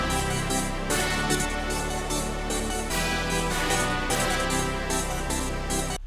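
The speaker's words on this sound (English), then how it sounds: "My main counter though are these two organ parts." Two organ counter-melody parts play within a full produced hip-hop beat, sustained chords and lines layered over steady drums and bass, loud and continuous with no talking.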